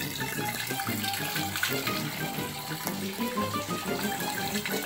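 Free-flowing water runs continuously from a mountain source in Barangay Malatap, Labo, a loud, steady gushing rush close by with faint background voices mixed in.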